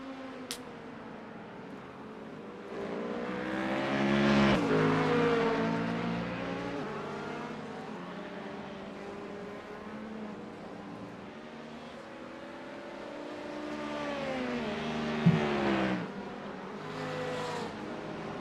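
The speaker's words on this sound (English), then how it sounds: "As they're ripping it around, you see cars passing left and right." Multi-class IMSA race cars, GT3s and LMP2 prototypes, roar past at speed around Portland International Raceway in iRacing, engine notes rising and falling as cars pass left and right, with loud swells near the start and a later surge.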